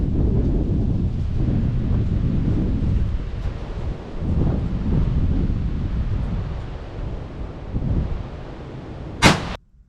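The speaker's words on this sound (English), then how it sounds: "We'll let the wind calm down just for a second." Gusty wind buffeting the microphone outdoors at a shooting range, rumbling in waves of low roar that rise and ease, with a sharp single crack near the end.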